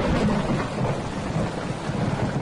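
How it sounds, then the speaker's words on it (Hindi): Heavy rain falls in the Thar desert with a deep, steady thunderstorm rumble. The downpour is a loud, continuous wash with no voices. "बारिश भी वक्त पर बरस पड़ी"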